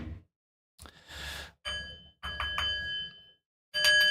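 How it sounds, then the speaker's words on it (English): A bell chimes several times in short separate strikes, each with bright ringing overtones, the last one loudest, with brief pauses between rings. "we got ring that bell, ring the bell"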